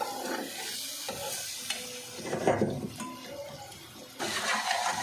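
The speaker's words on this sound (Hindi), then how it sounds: "बस ये देखें हमारा मसाला भून रहा है।" Masala frying in a pan while cooking bhindi chicken gives a steady sizzle with stirring and scraping throughout, and a louder burst of sizzle near the end.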